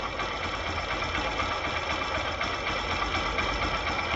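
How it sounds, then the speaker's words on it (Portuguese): A running car engine heard up close through a Phillips screwdriver pressed against it like a mechanic's stethoscope, giving a steady, dense mechanical whir with a rapid internal ticking and no pauses. "Barulho do som saindo de dentro do motor pelo escapamento."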